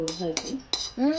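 Cooking pots and utensils clatter in a home kitchen while beetroot raita is prepared: four sharp, close metallic clanks within about a second, each leaving a brief ringing tone.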